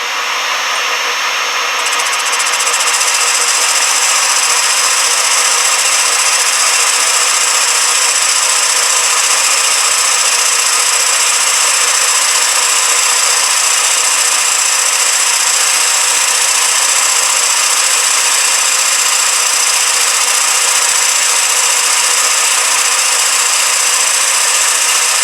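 Rough machining pass on a cast aluminium drive pulley for a belt grinder, a steady, loud, continuous high-pitched cutting whine that holds unbroken throughout with no voices.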